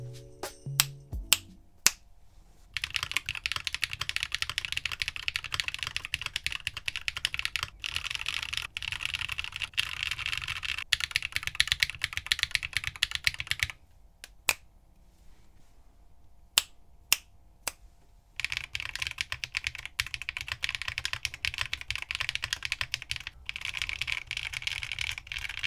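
Mechanical keyboard fitted with long-pull Strawberry Milk Ice linear switches in nylon housings and GMK keycaps, typed in long steady bursts of rapid clacks, close up, separated by brief pauses and a few sharp single taps.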